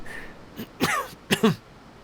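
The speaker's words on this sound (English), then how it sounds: "Sickly cough." Two short, raspy coughs from a video game character in Genshin Impact, separated by a brief pause, close and fairly quiet, with no talking.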